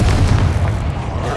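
Confringo spell blast from Hogwarts Legacy, a single loud, deep boom that rolls on as a rumbling burst, close and filling the whole moment.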